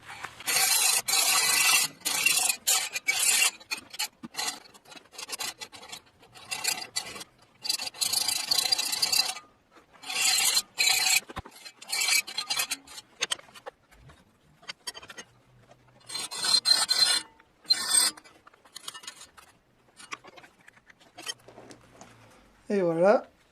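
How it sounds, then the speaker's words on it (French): A small triangular file rasps against metal in bursts of rubbing strokes separated by pauses, close and fairly quiet, with a voice talking at times between the filing. "Donc là c'est une lime triangulaire"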